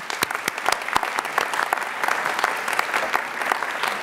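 An audience at a college academic and leadership awards convocation applauds steadily, with dense, continuous clapping from a large crowd filling the hall at moderate volume.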